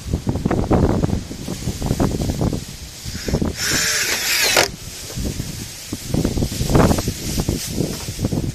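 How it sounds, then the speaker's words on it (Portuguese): Strong wind gusts across an outdoor woodworking spot where a wooden bench is being built, with loud rumbling buffets against the microphone in bursts and a hissing gust in the middle. "Tá uma ventania."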